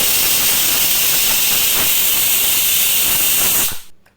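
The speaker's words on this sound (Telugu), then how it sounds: "ఏడెనిమిది విజిల్స్ వచ్చిన తర్వాత అయితే కుక్కర్ ఓపెన్ చేసి చూపిస్తున్నా" A pressure cooker of gongura mutton lets out a loud, steady hiss of escaping steam for nearly four seconds, then cuts off abruptly into near silence.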